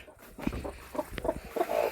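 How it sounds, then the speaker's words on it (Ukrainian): Soft, intermittent clucks from a broody hen, a few short low calls scattered across a quiet, slightly rustling background, close by. "Квочка тут ось."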